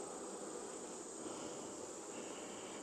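Honeybees at a farm hive give a steady, continuous buzzing hum at low volume, unbroken and without talk.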